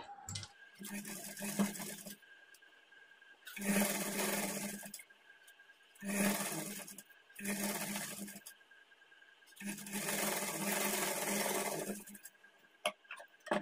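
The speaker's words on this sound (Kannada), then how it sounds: "ಇಲ್ಲಿಂದ ನಾವು ಒಂದು 1/4 ಇಂಚ್ ಮಾರ್ಜಿನ್ ಇಟ್ಕೊಂಡು ಸ್ಟಿಚ್ ಮಾಡ್ಕೊಳ್ಬೇಕು" A sewing machine stitching a blouse runs in several bursts of fast, steady whirring and clatter, each a second or two long, separated by short quiet pauses, close and clear.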